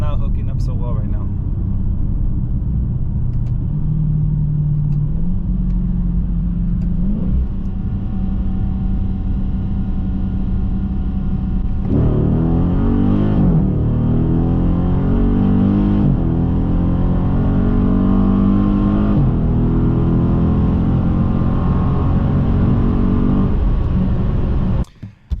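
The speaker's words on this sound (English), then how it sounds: "Car is not hooking up so well right now." A drag car on Mickey Thompson drag radials revs and launches, its engine droning loud and then climbing in pitch through the gears, with a voice talking over the engine.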